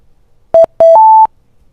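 Target-found cue from the Point and Speak app on a phone: a clean, loud electronic tone sequence of two short beeps followed by a longer, slightly higher beep, heard alone.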